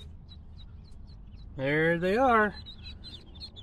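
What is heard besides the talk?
baby Cayuga ducklings peeping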